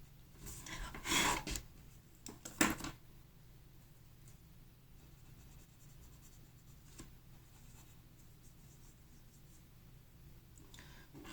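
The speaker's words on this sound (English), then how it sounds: "Erase again on his lips." Pencil and eraser rub across paper at close range in a few brisk bursts of scratchy friction early on, then soft intermittent sketching strokes follow, faint against a quiet room.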